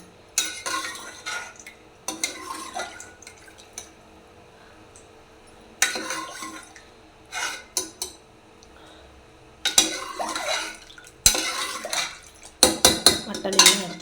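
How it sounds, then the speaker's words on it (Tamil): A metal spoon stirs mutton kulambu in a cooking pot in bursts of scraping and clinking, with quiet pauses between strokes and a sharp knock of metal near the end. "எடுத்து போட்டு நல்லா கிண்டி விட்டுட்டு நல்லா கொதிக்கிட்டோம்."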